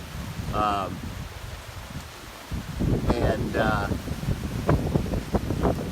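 Strong wind buffets the microphone with a constant low rumble and gusty roar, while a few brief bird-like chirps cut through.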